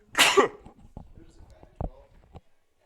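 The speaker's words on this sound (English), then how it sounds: "Made her sneeze." A sharp, loud sneeze-like burst opens the moment at a fastpitch softball game, followed by faint scattered noises and a brief second burst in an otherwise quiet stretch.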